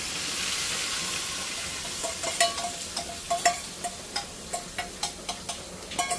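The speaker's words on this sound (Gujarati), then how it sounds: "હવે આ તેલમાં આપણે આ પણ લાલ ચટણી એડ કરી દઈશું." Red chutney hits hot oil for an idli-sambar dinner, a steady bright sizzle that breaks into a quick series of sharp spattering pops and crackles, close by, with no voices.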